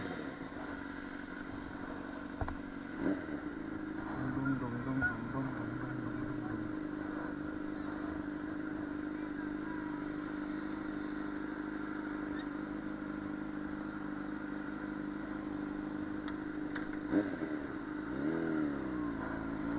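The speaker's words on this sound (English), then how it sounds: "Driving hella fast, man. That little Fiat 500." A little Fiat 500 driven fast, heard as a steady, moderately quiet engine drone with road rumble and faint rattles throughout, the pitch rising slightly near the end.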